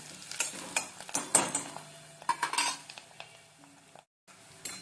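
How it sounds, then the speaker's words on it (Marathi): Onion and curry leaves sauté in a pan for dal tadka, a bright sizzle broken by frequent clattering metal spoon scrapes against the pan, then a brief silent gap before the stirring resumes. "कांदा थोडासा परतला त्याच्यात कढीपत्ता घालायचा आहे"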